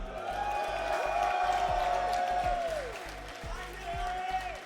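At an esports tournament, an arena crowd cheers and claps in a continuous wash of noise under a commentator's steady, prominent talking, the crowd swelling then easing slightly.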